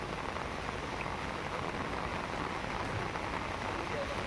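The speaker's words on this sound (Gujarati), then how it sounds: "ભારે વરસાદ ખાબકતા ચોતરફ પાણી થઈ ગયું" Heavy monsoon rain pours down in a dense, even roar that stays constant throughout, with no distinct individual drops or voices standing out.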